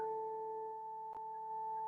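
An electric guitar string held in sustain by an EBow rings as a steady pure tone with faint overtones, unchanging and alone, broken only by one tiny click partway through.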